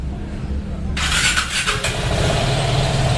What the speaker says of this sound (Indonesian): sekarang saya bakal menyalakan motor ini teman-teman